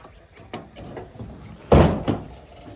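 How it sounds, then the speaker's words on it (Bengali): A door thuds shut at a storm-damaged duck farm, a single solid knock followed by a softer rattle. Quiet ambient noise surrounds it. "আমি একটু দরজাটা বন্ধ করে দিয়ে আসি সর্বপ্রথম।"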